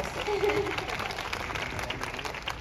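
Audience applause at a book signing event for Inma Rubiales's novel, a steady wash of clapping from a crowd with a faint voice briefly underneath.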